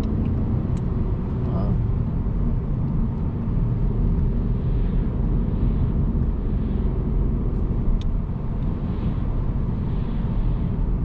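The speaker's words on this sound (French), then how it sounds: "Et on accélère. Allez, on accélère." A car accelerating on a driving lesson, a steady, loud engine and road rumble that goes on for the whole stretch without pause.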